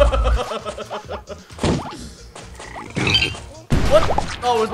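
Frog croaks from the BattleBlock Theater video game, a few short croaky bursts mixed among clattering game effects, snickering and hits.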